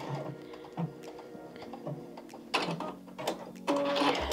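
A sewing machine stitching a decorative stitch runs with a steady mechanical whir and clicking, louder bursts of rapid needle action toward the end, moderately quiet and without talk.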